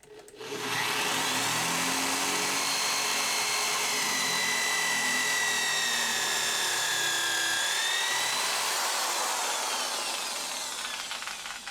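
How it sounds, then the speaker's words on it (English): A small 4 amp electric drill runs alone and loud for about ten seconds, a steady whining motor drone with a shifting high pitch that eases slightly near the end. "This is only about a 4 amp drill, so it's nothing too crazy"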